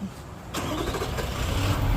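A car engine cranks and catches on a vehicle leaking oil from its exhaust, turning over abruptly halfway through and then running loud and rough, building steadily at close range with no talk.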